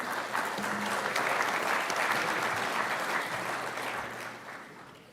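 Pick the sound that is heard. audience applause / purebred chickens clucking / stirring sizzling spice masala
audience applause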